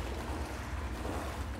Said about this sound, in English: So this is water.